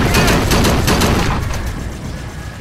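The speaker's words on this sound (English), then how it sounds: "Even though the properties of the gun haven't been changed at all, the sound makes it feel more powerful" A video game gun fires a rapid burst of heavy, punchy shots, loud and booming at first, then fading into a decaying rumble with no talking.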